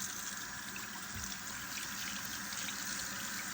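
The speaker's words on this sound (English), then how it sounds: "we're gonna go ahead and clean up all, rinse off the rest of these fish" Running tap water splashes steadily over large catfish fillets as they are rinsed in a sink to wash out blood, a continuous close hiss of water without a break and no voices.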